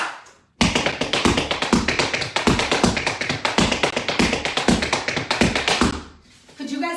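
Tap shoes beat out a fast, steady paddle-and-roll exercise in a triplet-clave rhythm, with the heel strikes accented over quieter toe sounds. The tapping is close and crisp and runs continuously for several seconds before stopping.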